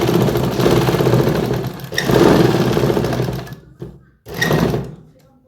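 A sewing machine runs a straight stitch on palazzo pants, attaching elastic, in loud, close bursts of rapid needle chatter that pause briefly, resume, then stop.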